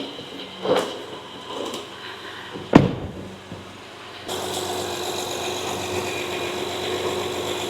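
A 2014 Honda Odyssey engine cranks after a few faint mechanical knocks and a sharp clunk, then catches and settles into a steady, close idle that runs to the end.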